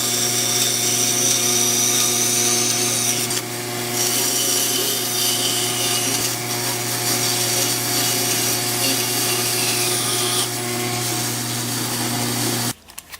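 A power tool cuts through a piece of wood in a woodworking build of a power strip, a steady loud whirring grind with a few brief dips that runs alone for about thirteen seconds before stopping abruptly.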